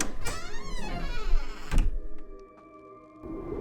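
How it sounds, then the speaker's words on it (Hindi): A taxi door swings open on its own as a horror sound effect: a long eerie creaking sweep ending in a solid thunk, then a faint lingering hum. "टैक्सी का दरवाजा अपने आप खुल गया।"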